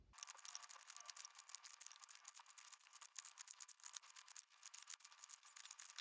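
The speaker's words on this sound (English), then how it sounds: "get myself a pair of scissors and open all these up" Scissors snip open One Piece OP12 trading card booster packs, a steady run of quick, crisp cuts and crinkling foil wrappers, close and fairly quiet, with no talking.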